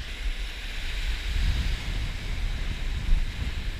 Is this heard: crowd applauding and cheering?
no